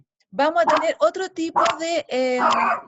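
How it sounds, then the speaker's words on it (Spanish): A dog barks after the doorbell rings, a run of loud, close, tonal barks and yips in quick bursts, with a person speaking just before. "Ese es mi perro, que sonó el timbre."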